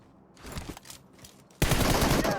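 Scar assault rifle fire in PUBG Mobile starts as a few scattered shots, then breaks into a loud, dense automatic burst that continues to the end.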